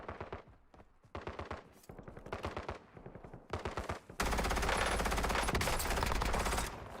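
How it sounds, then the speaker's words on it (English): Gunfire in the Warzone video game comes first as short rapid bursts of automatic fire separated by brief pauses, then as a long, loud, sustained volley close at hand. "I think that guy was shooting at us, just aiming through the ground, hoping for the best."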